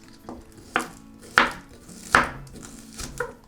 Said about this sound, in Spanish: no perdemos el tiempo y picamos finamente 3 cebolletas